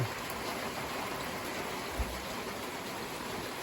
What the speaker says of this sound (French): Donc la pluie est de retour.